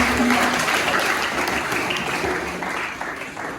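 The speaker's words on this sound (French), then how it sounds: "Je voudrais que vous l'applaudissiez encore." An audience applauding abbé Jacques Mendy at a parish patronal feast, a full, steady burst of clapping that starts loud and gradually tapers slightly toward the end.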